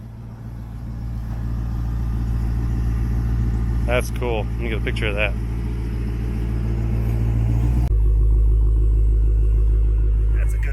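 Ferrari F12 idling nearby with a steady low rumble and drone throughout, a brief burst of sharper sound in the middle, while a person talks over it.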